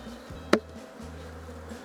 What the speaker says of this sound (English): It's tricky to get the bees out of them.